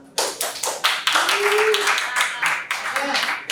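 A classroom group claps for group 2 after its presentation, with scattered, uneven handclaps that come in bursts, mixed with voices talking over them.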